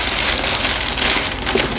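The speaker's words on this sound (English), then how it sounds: "this is a really crinkly sack" Crinkly sack from a cat toy subscription box being handled, a steady dense rustle and crackle filling the whole moment, close and loud with no talk over it.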